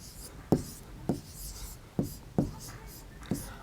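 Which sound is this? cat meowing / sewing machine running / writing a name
writing a name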